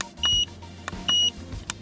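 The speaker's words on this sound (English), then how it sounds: "You want to turn off that beep." Two short, sharp electronic beeps from a Foxwell NT201 OBD2 diagnostic scan tool, evenly spaced about a second apart with faint button clicks between, clear and close with no talking.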